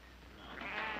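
A sheep bleats in a single drawn-out, nasal call that swells louder toward the end, heard close against a steady low background hum.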